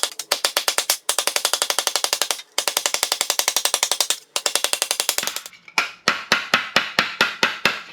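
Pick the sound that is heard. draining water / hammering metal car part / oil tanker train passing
hammering metal car part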